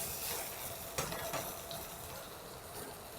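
Steak cooks in a pan with a soft, steady sizzle and hiss, a couple of faint clicks mixed in, fairly quiet and with no talking.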